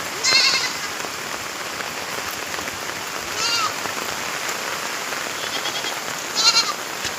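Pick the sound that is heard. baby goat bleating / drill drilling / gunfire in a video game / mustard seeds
baby goat bleating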